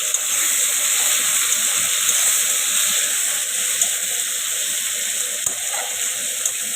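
Chopped tomatoes hit a hot cooking pan and sizzle with a steady, close hiss that runs unbroken throughout, no voices over it.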